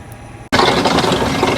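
A drainage pipe reel feeds plastic pipe into a field trench, giving a steady close mechanical clatter of ratcheting and whirring that kicks in loudly after a brief quiet start and continues without pause.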